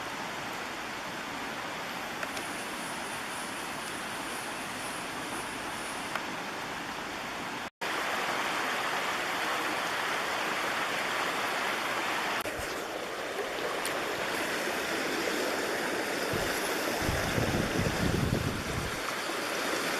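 A river rushes over rocks on a trail near Sitka, Alaska, a steady broadband roar that stays close and loud throughout, with a brief dropout partway and heavier low splashing toward the end.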